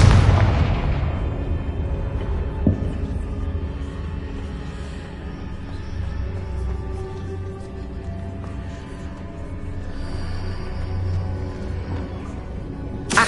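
A Confringo blasting spell bursts in the Hogwarts Legacy video game with a loud, booming explosion at the start, then fades into a low, lingering rumble with small crackles and thuds.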